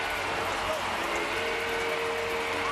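A big baseball stadium crowd roars in a steady, dense wash of cheering and applause after a leadoff home run by the Astros against the Angels on Fan Appreciation Day, with a broadcaster's voice faintly underneath.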